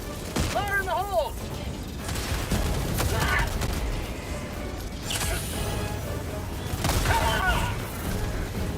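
Explosion in the co-op shooter Helldivers II, a sequence of heavy booms and crashing blasts mixed with gunfire bursts across the scene, loud and sustained, with voices and radio-like chatter over it.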